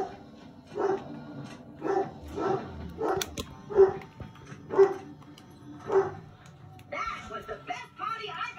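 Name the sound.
dog barking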